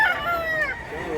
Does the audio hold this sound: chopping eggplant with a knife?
no